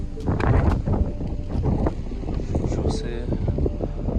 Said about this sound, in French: Ça a du vent de fou, je sais pas si vous allez m'entendre